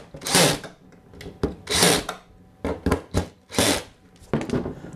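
A row of four number 4 flathead screws is tightened into place with a tool, with repeated bursts of close, scraping whirring separated by short pauses.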